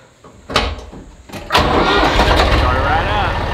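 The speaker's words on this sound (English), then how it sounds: "So tractors hit or miss starting these days." A tractor engine on a chicken farm cranks in a few short bursts, then catches and runs steadily, loud and close, with a voice heard briefly near the start.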